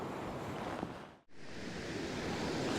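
Steady roaring wind and surf noise buffeting the microphone on a UK beach in December rain, loud and continuous, with a brief dropout in the middle.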